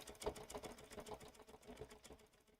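A Bernina sewing machine fitted with a #7 fringe foot stitches steadily, its needle chattering in a fast, even rhythm close by, with no talking.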